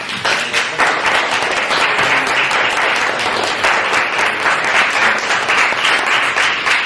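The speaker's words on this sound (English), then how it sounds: "let's have one last round of applause for all our panelists" A conference audience claps for the panelists at the close of an event, dense sustained applause from a crowd filling the room for about seven seconds with no talking.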